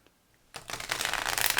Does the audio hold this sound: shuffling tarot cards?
yes